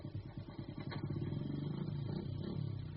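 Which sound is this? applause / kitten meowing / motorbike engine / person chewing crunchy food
motorbike engine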